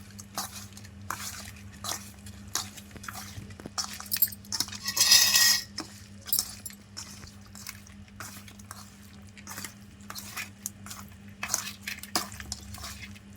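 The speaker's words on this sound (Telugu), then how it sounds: "ఇవి ఇప్పుడు బాగా మిక్స్ అయ్యేలాగా అన్నీ మిక్స్ చేసుకోవాలండి." Chicken pieces are mixed by hand or spoon with garam masala, chicken masala and mutton masala in a bowl. Soft, repeated scraping and clinking carries on throughout, with one louder burst partway through.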